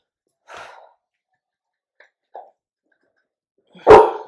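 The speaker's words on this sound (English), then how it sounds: "Hey Nettie, that's making Callie bark." A pet dog named Callie gives a few sparse, sharp barks indoors: a soft yip, two tiny faint sounds, then one loud close bark at the end, with near silence between.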